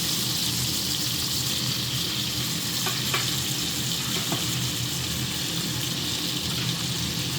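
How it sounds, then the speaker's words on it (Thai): Shrimp stir-fried with holy basil sizzles loudly and steadily in a hot pan, a constant crackling hiss with a few light clinks of the utensil against the pan partway through. "ผัดกุ้งผัดกะเพรานะคะ"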